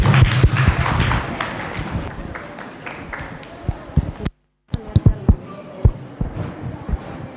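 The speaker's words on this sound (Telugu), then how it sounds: "క్లాప్స్. చప్పట్లు కొట్టండి." Children clap their hands together in a crowd, a dense run of sharp claps that thins out into scattered single claps, with a brief silent gap partway through.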